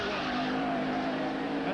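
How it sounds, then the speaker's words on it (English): Race car braking hard at speed, its tires skidding and squealing in a sustained wavering screech over roaring engine noise, heard from a distance at a racetrack. "he just gets on the brakes and stops it in time to avoid hitting the rail"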